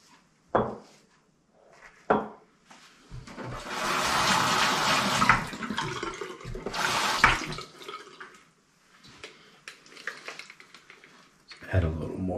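Water runs from a bathroom tap during a wet shave with face lather, a steady close rush lasting several seconds, framed by short knocks and clatters at the sink.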